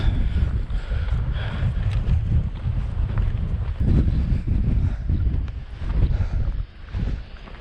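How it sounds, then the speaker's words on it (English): Wind gusts buffet the microphone in heavy, uneven rumbling bursts on the Wales Coast Path between Trefin and Whitesands Bay, blowing continuously with brief lulls. "I hope the campsite's not this windy."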